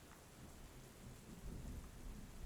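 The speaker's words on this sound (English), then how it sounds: "I rather like thunderstorms." A thunderstorm with rain, heard as a faint, steady hiss of rainfall with a low rumble of thunder building toward the end, distant and subdued.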